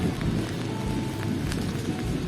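Steady rain pours down with a constant hiss, continuous and fairly close, with no talking.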